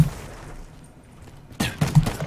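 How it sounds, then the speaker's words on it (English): Gunfire in Call of Duty Black Ops III: after a quiet stretch, a rapid burst of close, loud shots breaks out and keeps rattling to the end. "Man, I hear shooting over here."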